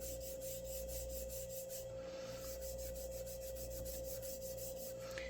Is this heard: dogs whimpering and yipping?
no